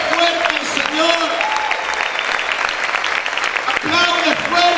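Loud sustained applause fills a church congregation, with a voice calling out over it at the start and again near the end.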